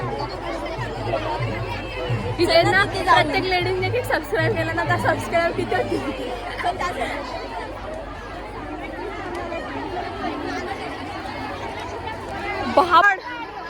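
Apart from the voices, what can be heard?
crowd of women chattering indoors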